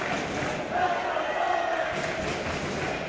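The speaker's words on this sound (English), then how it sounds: "You have to love the crowd." A high school girls' volleyball crowd in a gym cheers and yells together in a continuous, echoing roar during a Division 2 semifinal.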